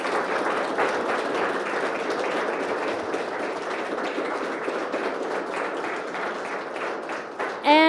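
A gallery audience at a senior capstone art event applauding award winners, sustained crowd clapping at a steady, fairly loud level that carries on without pause, with a brief voice rising right at the end.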